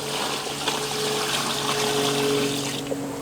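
Water poured from a bucket into a washing bucket for laundry, a steady close rushing and sloshing that runs continuously without talk.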